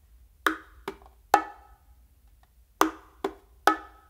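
A bongo plays a slow basic martillo of a slap, a ghost note and an open tone: two groups of three sharp hand strikes, the softer ghost hit in the middle of each, with a pause between the groups. The drum is close and alone.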